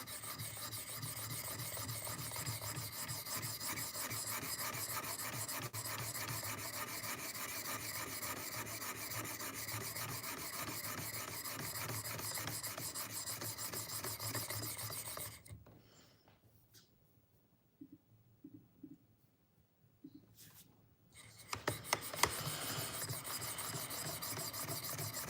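A knife is sharpened on a clamped sharpener with a long, steady, close rasping rub that runs continuously, then a quiet pause broken by a few light clicks and scrapes before the rubbing resumes.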